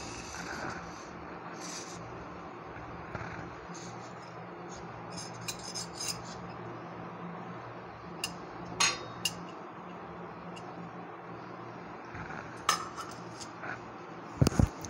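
Chopped onion and tomato being stirred into beaten egg in a bowl for an egg omelette, giving a steady soft scraping rub with scattered light clinks of a utensil against the bowl, close and alone.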